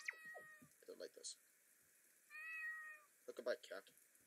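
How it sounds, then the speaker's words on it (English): A cat meows several times in short, uneven calls, fairly close but quiet, among faint voices and rustling in a quiet room. "Look at my cat."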